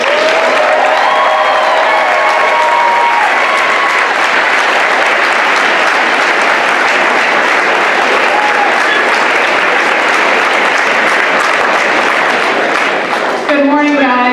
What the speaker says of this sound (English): round of applause and cheers for Ms.